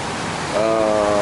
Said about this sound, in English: Obviously it's raining now because it's the raining season here in the Philippines.